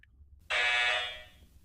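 An LED TECH digital stopwatch timer sounds its end-of-countdown alert: a single loud, shrill electronic beep lasting about a second that fades out, preceded by a tiny faint chirp, alone in quiet surroundings.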